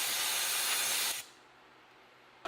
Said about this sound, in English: I went ahead and sprayed it down with some throttle body cleaner